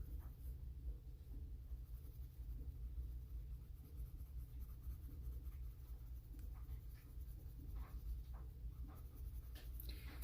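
Prismacolor colored pencil working over paper, a soft, steady scratchy rasp of continuous coloring strokes, faint and close with low background rumble.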